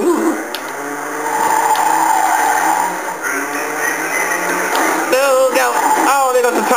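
A car in Driver 3 driving on three tires, with a loud sustained engine whine, scraping and tire noise shifting in pitch, and a voice talking over it.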